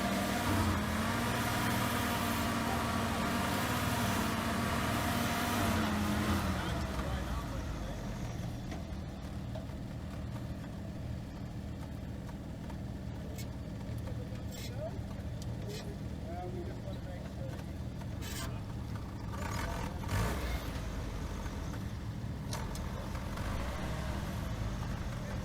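A Jeep Cherokee XJ engine rumbles low and steady while the vehicle crawls along a side slope, with a brief rising rev early on and occasional knocks and creaks, and someone talks over it throughout.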